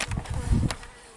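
Bees buzzing close around a person's head outdoors, a loud, wavering drone that swells and fades as the insects pass near.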